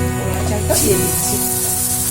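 Frying sizzle from a pan while pulao cooks with sugar browning, a steady broadband hiss throughout with a slight swell near the middle, continuous and close.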